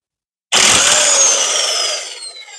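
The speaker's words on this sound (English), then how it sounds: "Got the trusty electric impact here." An electric impact wrench on a van deck project runs in one loud, sudden burst, a harsh high-pitched whirring rattle that starts abruptly and winds down over about two seconds, with no talk.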